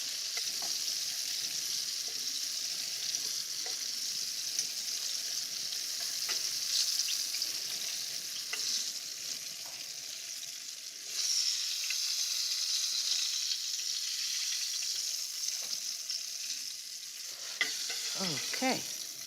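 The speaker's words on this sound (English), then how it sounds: "We'll let them brown on this side, and then we'll plop them right in there." Meatballs brown in a frying pan, giving a steady, close frying sizzle that runs throughout, with occasional soft clicks and scrapes from the pan.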